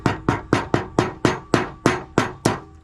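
Hammer tapping an old bearing onto a John Deere L120 mower deck spindle: eleven sharp, evenly spaced metallic taps in quick succession, close and clear with nothing else heard.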